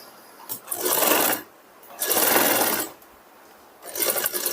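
A sewing machine runs a double line of stitching along a princess-cut blouse seam in three separate bursts of rapid whirring clatter, with short quiet pauses between runs.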